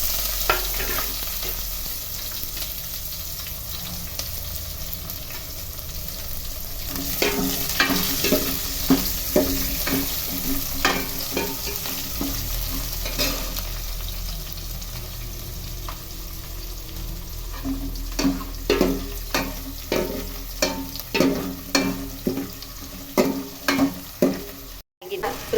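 Onion frying with cumin in a pan for coconut bajji sambar, heard as a steady close sizzle with repeated rhythmic scraping stirs that grow more frequent in the second half.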